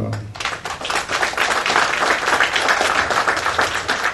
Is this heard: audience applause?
yes